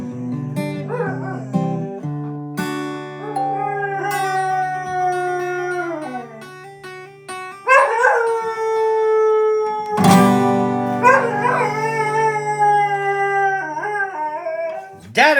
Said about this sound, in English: That is a good singing dog.